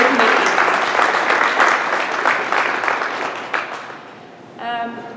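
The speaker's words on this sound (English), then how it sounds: "just want to give everybody a great round of applause already for agreeing to be a part of the committee." Warm applause from a gathered audience for a local organizing committee at a junior A hockey event announcement, thick clapping that gradually thins out before a speaking voice enters at the close.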